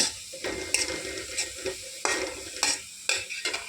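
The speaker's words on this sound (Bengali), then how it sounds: "এখন এটাকে পেঁয়াজের সাথে মিক্সড করে ফ্রাই করি।" Ground spices and browned onion stirred and fried in a pan, with close, loud, repeated scraping strokes of a spatula in an uneven rhythm over a continuous sizzle.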